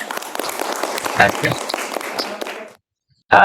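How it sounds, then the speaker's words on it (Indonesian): Classroom of students clapping hands together on the teacher's prompt, a brief burst of fairly loud clapping that stops abruptly, followed by a short silence and then a voice. "Tepuk tangan dulu"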